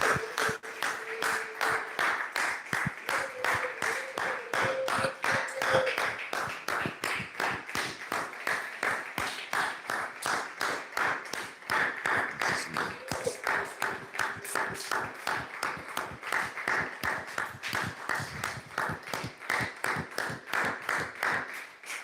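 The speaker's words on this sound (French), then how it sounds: "Applaudissons pour Jésus." A church congregation claps together in steady, rhythmic applause that runs unbroken for over twenty seconds, with faint singing or voices beneath the clapping.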